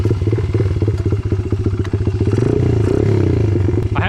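A custom Honda CRF50 pit bike engine runs loud and close, its rapid pulsing putter climbing as the throttle is blipped and revved, then easing back near the end.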